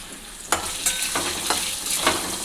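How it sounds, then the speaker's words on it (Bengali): Potatoes fry in hot oil with cumin seeds, dry red chili and bay leaf, a steady sizzle broken by several sharp scrapes and stirs of the spatula, close and clear with no talk. "ওই তেলের মধ্যে দিয়ে দেবো জিরা শুকনো লঙ্কা তেজপাতা দিয়ে দেবো, আলু দিয়ে দেবো, ভেজে নিতে হবে ভালো করে"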